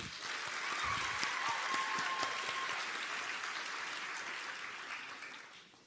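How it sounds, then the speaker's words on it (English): Nursing graduates applaud themselves at a convocation ceremony, a full room of hands clapping densely and steadily from the start and tapering slightly toward the end. "let's give ourselves a round of applause"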